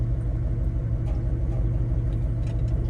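An old truck engine idles with a steady, low, rough rumble, close and continuous without pause, with no talk over it.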